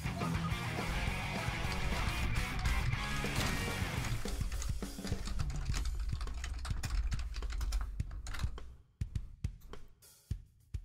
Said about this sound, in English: Very loud keyboard.